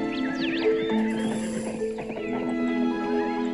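Horses whinny loudly with rising and falling neighs, while hooves clop along beneath amid a busy, noisy background.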